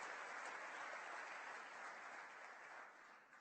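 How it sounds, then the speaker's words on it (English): An audience at a Computer History Museum panel gives a warm round of applause, steady clapping that is fairly soft and distant and tapers slightly toward the end. "Please give John a warm round of applause."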